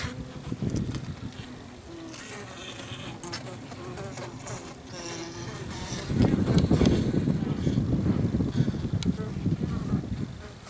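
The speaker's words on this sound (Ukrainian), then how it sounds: "Бджіл не видно, але їх дуже добре чуть" Honeybees in a wintering hive give a low, droning hum, with wind noise and handling rustle over it; the buzz swells louder and fuller in the second half.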